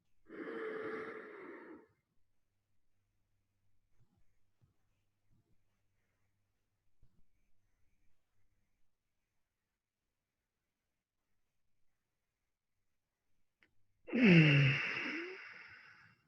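Deep breathing during Tummo meditation: one long, close inhale-exhale at the start, then near silence for about twelve seconds, then another strong, audible breath near the end.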